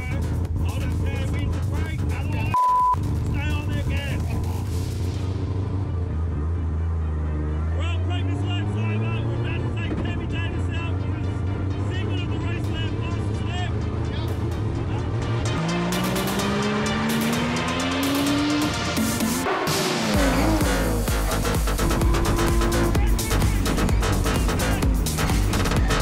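A race car engine roars steadily through a warm-up lap, its pitch rising and falling through gear changes, with a sharp cut near the middle. It stays loud and close the whole way, with a voice talking over it.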